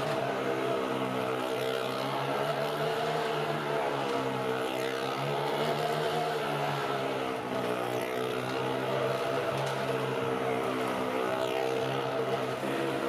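Motorcycle and car engines roar continuously as they circle the near-vertical wooden walls of a well of death show in India, a steady loud drone with rising and falling revs and no talk.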